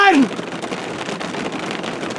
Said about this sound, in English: It's like, it's raining really bad.